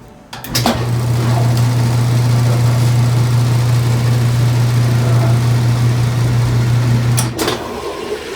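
A Whirlpool washing machine, repaired after a failed motor coupler, spins with a steady low motor hum that starts abruptly, holds evenly for several seconds and then cuts off, with a couple of clicks at start and stop.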